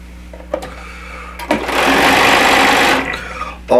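A sewing machine runs in one steady, loud burst of about a second and a half, stitching straight quarter-inch seams along quilt strips, with quieter handling noise before and after.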